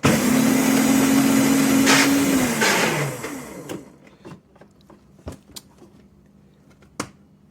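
A modified 24-volt Power Wheels Mustang ride-on toy, 12/24-volt switchable with its power brake disconnected, runs its motor in reverse: a loud, steady electric whine for about three seconds that drops in pitch and winds down, followed by scattered light clicks and taps.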